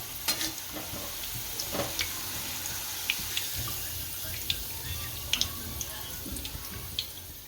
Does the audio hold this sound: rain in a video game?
no